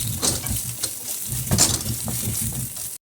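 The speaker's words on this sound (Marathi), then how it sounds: "एका कढईमध्ये मी भाजून काढते पण खोबऱ्या आणि तिळामध्ये थोडंसं तेल घालायचं" Grated coconut, sesame, garlic, ginger and onion roast in a little oil in a kadhai, making a close sizzle broken by repeated scraping stirs, with a few louder clattering strokes.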